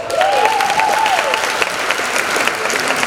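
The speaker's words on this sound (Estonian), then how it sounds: "Aplaus!" Audience applause fills a fashion show hall, a dense steady patter of clapping with a rising synth tone from the DJ music underneath, sustained for a few seconds at close range.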